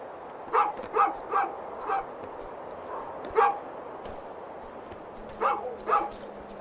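A dog barks in the video game A Juggler's Tale, a series of sharp, moderately loud barks in quick clusters with short pauses between, set against a quiet ambient background.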